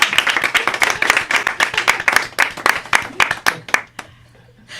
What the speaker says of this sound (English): let's give a round of applause for everyone